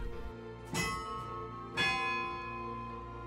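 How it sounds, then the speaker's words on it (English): Church bells of St. Louis Cathedral in New Orleans ring out, two distinct strikes with long, resonant overlapping hum between them, clear and alone. "Its bells have kept the time."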